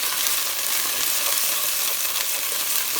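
Garlic frying in hot ghee gives a loud, steady, close sizzle with a constant crackling hiss of spitting fat and no voices.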